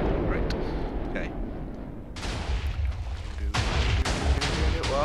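A fragmentation missile detonating in the Minecraft Voltz mod sets off loud, rumbling blasts and a dense roar of debris, with a second heavy burst partway through and no clear talking.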